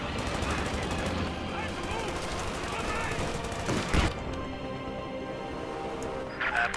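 Rapid machine-gun and rifle fire rattles on in the Company of Heroes 2 strategy game, a steady dense crackle with a sharper burst near the middle, while a voice speaks briefly over it.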